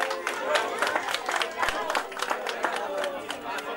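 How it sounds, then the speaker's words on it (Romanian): A crowd of guests at a children's party applauds in a dense, continuous patter mixed with chatter and voices, moderately loud throughout. "Puteți însă, în cinstea mea, toți să aplaudați."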